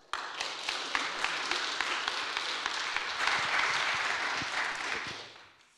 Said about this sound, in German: Ich bitte um Applaus für die Gruppe What Happened mit Lene, Peter, Tillmann, Lotte, Lea, Mara, Judith,